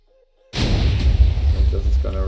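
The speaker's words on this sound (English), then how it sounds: "Should be able to fire my cannon now." A Minecraft cannon fires after a moment of near silence, a sudden loud blast that swells into a sustained rumbling roar, with a faint game tone before it.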